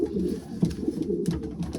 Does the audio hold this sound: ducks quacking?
no